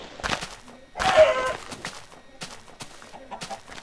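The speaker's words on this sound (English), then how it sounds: "Chickens and shit." Chickens cluck and squawk in a video game, several short bursts around a louder flurry of calls, moderately close with no talk over them.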